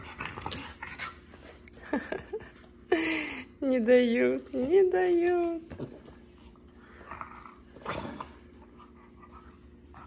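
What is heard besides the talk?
dog whimpering and panting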